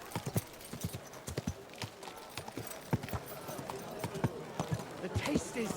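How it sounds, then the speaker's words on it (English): Horse hooves in the video game Kingdom Come Deliverance 2, a close, steady run of sharp clip-clop strikes continuing throughout. "Easy, good horse."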